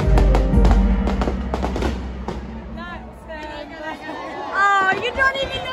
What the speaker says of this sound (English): We're going to the fireworks.